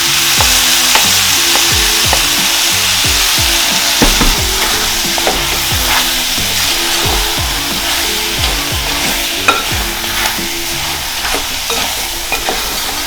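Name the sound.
chicken tandoori masala frying and being stirred with tomato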